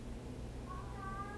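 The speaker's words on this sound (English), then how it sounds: "That's my cat. Do you hear her?" Pet cat giving a short, thin meow that rises over a steady low indoor hum, faint and a little distant, with no talk.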